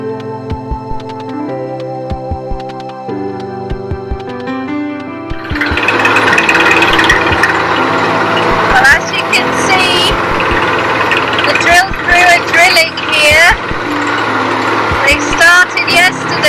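A drill truck boring a water well at about 70 feet, a loud, harsh mechanical roar with repeated clanking and banging that grows louder midway, with a voice speaking over it early on.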